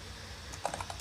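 A computer keyboard being typed on while coding: several crisp keystroke clicks bunched in the latter half, close and fairly loud over a quiet room hum, with no one talking.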